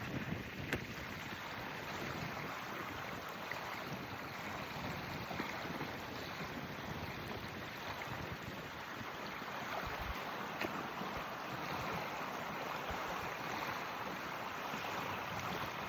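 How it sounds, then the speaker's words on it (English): Cold January wind blowing across open water with waves lapping nearby, a faint steady rush with gusty microphone buffeting and no voices. "The wind is blowing. You see them waves."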